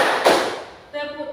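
Classroom children clap together in a focus clapping game, one sharp collective clap followed by a teacher's voice speaking.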